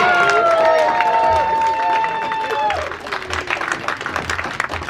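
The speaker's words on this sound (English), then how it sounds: "Give a huge round of applause for Lucas Steves, everybody." An amateur-night comedy club crowd applauds and cheers loudly, with whoops and shouts over dense clapping that gradually thins into scattered claps.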